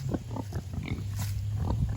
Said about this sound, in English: I have 3 pigs in this paddock on the hill right now.